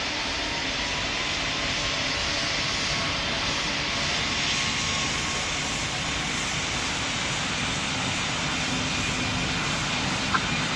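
An airliner goes around in the Roblox flight simulator Pilot Training Flight Simulator, producing a loud, steady jet-engine roar that holds constant throughout with no voices.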